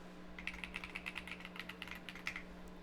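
Fingers tap out a password on a computer keyboard, a quick, even run of soft clicks close by over a steady electrical hum, with no talking.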